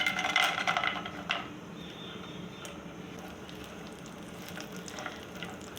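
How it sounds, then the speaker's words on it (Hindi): Dry fruits hit a hot pan and fry, a burst of crackling sizzle at first that settles into a softer, steady low sizzle with occasional small pops. "तमाम ड्राई फ्रूट्स मैं डालती हूँ फ्राई करने के लिए"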